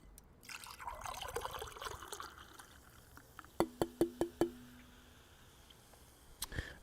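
Liquid pours in a steady trickle for a few seconds, followed by four evenly spaced, ringing clinks and a faint knock near the end, all quiet and close.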